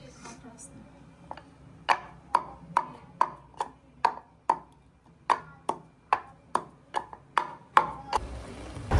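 Dried red chillies being crushed into powder while making a raw mango amsotto, heard as about fifteen sharp, evenly spaced knocks that keep a steady beat, close and fairly loud, with no talking over them.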